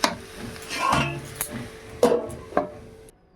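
A metal pot lid is set down over a pan of braised cauliflower on a switched-off gas stove, giving a few sharp clanks and knocks spread over a few seconds before falling quiet.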